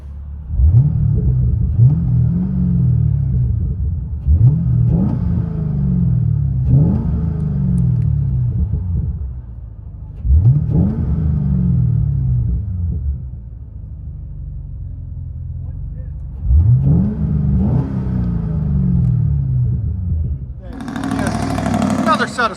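A 2014 Chevy Camaro 2SS with a 6.2L V8 and Magnaflow Magnapack exhaust blips through a series of sharp revs rising and falling over a deep idle rumble, ending in a louder burst, with a voice heard between.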